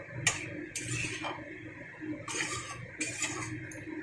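Chopped vegetables stirred in a cooking pot, a few scraping, clinking strokes of a utensil against the pot with quiet gaps between them, close and moderately soft.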